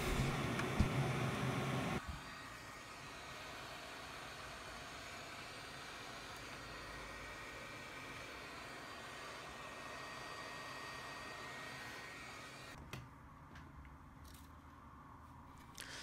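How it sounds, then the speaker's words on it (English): A heat gun blowing steadily on heat shrink tubing over switch wiring, a continuous close whooshing hum that starts abruptly after a louder opening noise and cuts off near the end. "I'll just use the heat gun"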